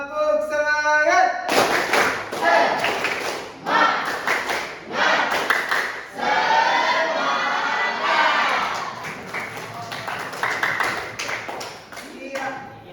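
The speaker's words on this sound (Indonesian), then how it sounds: "Dua kali tepuk semangat" A classroom of students performs a rhythmic spirit clap, bursts of patterned clapping and thumps mixed with shouted chanting voices, loud and close, rising and falling over several rounds.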